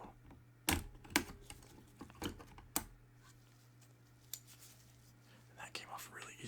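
Keycaps being pried off the top row of a computer keyboard during cleaning: several sharp, close plastic clicks and snaps spaced irregularly, with soft handling rustle between them.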